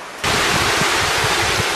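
Archangel Falls, a tiered waterfall on a trail in Zion Canyon, gives a sudden, loud, steady rushing roar of falling water that fills the scene close by. No voices are heard.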